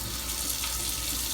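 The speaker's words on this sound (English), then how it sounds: "And now the cold water." Cold water streams from a newly installed sink faucet, a soft, even hiss of flow close by with no voices over it.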